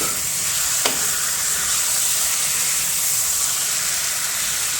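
Taro root (arbi) sizzles steadily in a hot pan while being stirred, a continuous close frying hiss with a brief scrape near the start and no talking.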